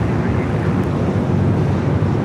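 A United Dreamliner airliner arrives on the north side of LAX, heard as a steady, broad, distant engine roar that holds even and unbroken throughout.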